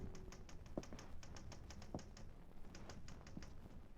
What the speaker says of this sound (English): One night, Laurie was typing a story in her room